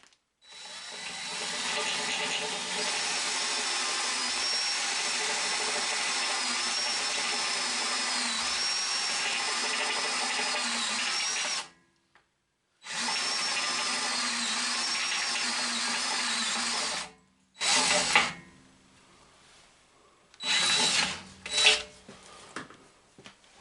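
A drill bit on a centre lathe boring 10mm holes through a workpiece makes a long steady whirring grind, then stops briefly and resumes, followed by shorter bursts. It is loud and close, with no voices.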